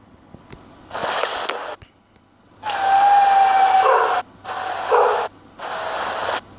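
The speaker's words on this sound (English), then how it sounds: "one of our dogs barking" A household dog barks in a few separate bursts of about a second each, fairly close and loud, with short quiet gaps between them and a faint steady hum underneath.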